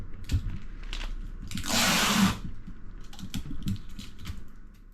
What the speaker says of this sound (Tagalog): Medyo magaan yung aking tape dispenser, hindi ko mahilang mag-isa